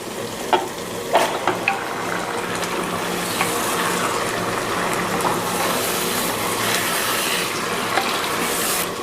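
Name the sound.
beef being stirred and cooked with spices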